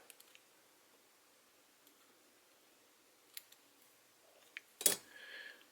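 Scissors make one sharp, close snip through a feather stem while a Badger Bivisible dry fly is being tied. A few faint clicks and rustles come before it in an otherwise quiet room.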